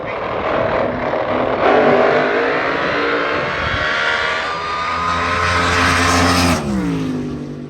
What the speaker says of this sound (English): Gage Sharplow, sending that Chevy 2 on down through there.